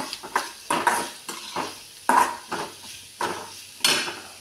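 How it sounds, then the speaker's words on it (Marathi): Food frying in a pan until reddish, with a spatula scraping and clanking against the pan in repeated, fairly regular strokes over a soft background sizzle, close up. "ह्याला छान असं लालसर होईपर्यंत फ्राय करून घ्यायचं."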